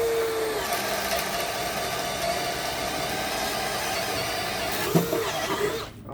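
Power drill boring through material with a bit in low gear, a steady loud motor whine running throughout with a brief jolt near the end.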